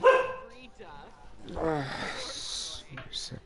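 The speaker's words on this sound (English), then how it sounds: "that was my dog barking" A pet dog barks a few times near the microphone, the barks mixed in with a person talking indoors.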